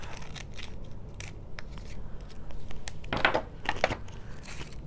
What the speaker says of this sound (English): I'm going to trim, and I'm going to trim this piece off.